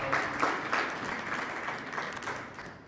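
A retreat audience breaks into sustained applause, a dense wash of many hands clapping at once that holds steady for a few seconds without any talking.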